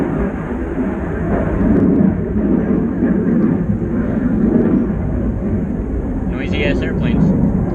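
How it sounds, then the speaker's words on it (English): An airplane passes over a house, a broad continuous roar swelling and fading in the background while someone talks over it during work on a 1988-1999 Chevy truck. "airplane flying over the house again."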